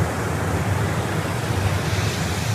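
Ocean surf breaking on the shore at close range, a dense and continuous wash of rushing water with no pauses and no voices.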